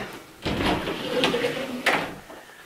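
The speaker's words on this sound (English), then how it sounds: "I'll open up the closet doors" Sliding closet doors in a bedroom closet packed with clothes are pushed open, giving a rolling scrape with a couple of knocks, close by and moderately loud.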